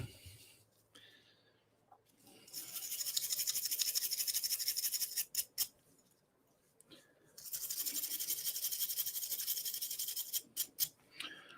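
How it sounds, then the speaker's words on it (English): A handheld Dremel rotary tool grinds out casting imperfections on a Datsun 510 part, whirring at a steady pitch in two sustained bursts of several seconds each, with brief starts and stops between them. "we'll use a Dremel tool here. Got a few imperfections in the casting, so we want to get those out."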